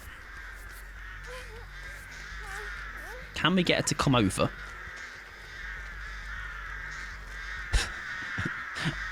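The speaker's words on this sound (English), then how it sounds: "I think she's just going to send crows" Crows cawing in a multiplayer video game, a burst of loud harsh caws crowding together mid-clip, then a couple of scattered calls later, with players talking over a steady background hum.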